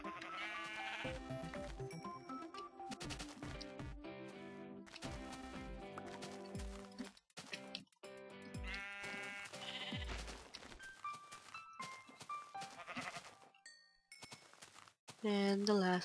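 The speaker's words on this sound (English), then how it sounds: "Now let's kill the sheep." Sheep bleat repeatedly in a tropical-realm video game, standing out over game music and dense layered sound, with a louder burst near the end.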